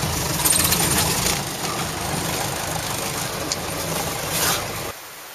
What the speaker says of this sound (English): Put the engine on.